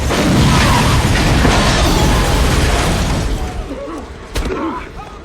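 A loud, sustained roaring bomb blast with dense low rumble and crackling debris, fading somewhat toward the end with a brief sharp burst, under music or commotion.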